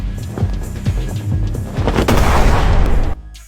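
A liquid high-explosive bomb going off in a movie: a series of sharp bangs and thuds building into a loud, sustained rumbling blast that cuts off abruptly near the end.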